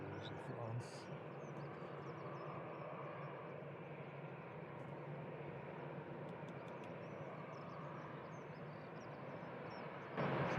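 An airliner taxis at Brussels Airport, its engines a steady, distant broadband rumble and whine that holds evenly throughout, with faint voices and a brief louder swell near the end.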